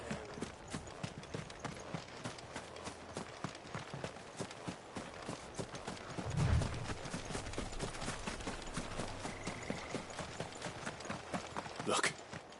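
Horses' hooves clip-clop steadily in the Final Fantasy video game, a quiet continuous trotting rhythm with a brief low thump partway through and a faint whinny-like cry near the end.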